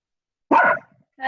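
A dog gives one loud, sharp bark close by, then a second bark starts just as the sound ends, with silence around them during a kickboxing fitness session.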